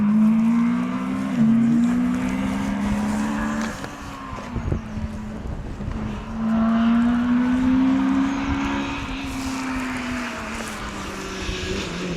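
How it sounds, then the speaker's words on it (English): A Honda Civic rally car on a special stage of the East Riding Stages Rally sounds a loud, droning engine whose pitch rises and falls through gear changes as it passes, then fades, with no talk. "That was Tim Johnson and Nigel Hutchinson in their Honda Civic"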